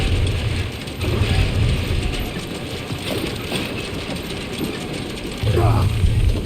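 Heavy mechanical grinding and ratcheting gear noise from a cannon being pried loose in the Guardians of the Galaxy video game, a continuous dense rumble with low thumping pulses near the start and end.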